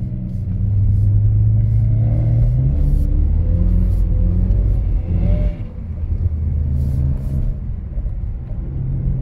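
A BMW drifts around snowy corners, the engine rumbling loud and close with rising revs that swell, dip briefly, then pick up again.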